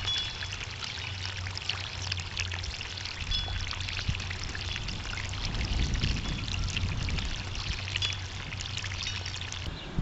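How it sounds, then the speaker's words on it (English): A garden hose lies in a vegetable-garden trench, letting water pour and trickle steadily along it; a continuous, close, moderately loud flow with a low rushing undertone and no voices. "I just lay the hose in the trench and let it run, and it fills up this entire trench"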